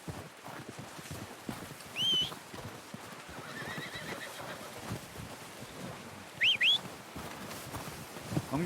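Horse in the video game Red Dead Redemption 2 gives two short whinnies amid a soft bed of hoofbeats and ambient outdoor noise, faint and mid-distance.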